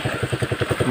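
A motorcycle on a rural farm road sounds as a short, steady run of chugging engine pulses, close and fairly loud, with no talk over it.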